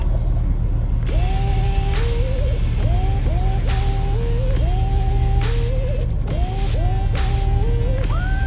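A van drives along with a slow-shifting automatic transmission. A constant low engine and road rumble runs under repeated rising whines that climb and level off, sounding like gears engaging. There are occasional clicks and no talking.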